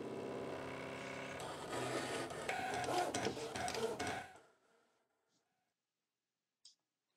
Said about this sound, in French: je vais venir du coup insérer mon support de découpe dans ma machine et je vais lancer la découpe exactement de la même manière